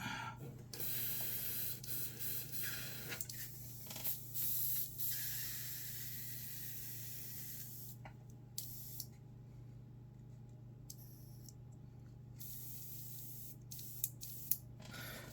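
Bursts of hissing spray into an old gallon milk jug, some steady and some short, then a stretch of quieter intermittent spurts with small clicks near the end.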